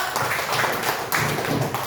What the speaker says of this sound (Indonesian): tepuk tangan buat hebat